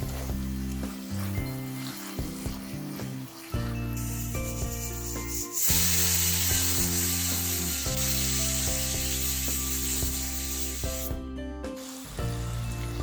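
Tomato puree with finely chopped green chili and grated ginger is stirred in a pan, with a steady scraping and rubbing sizzle over background music that grows louder partway through.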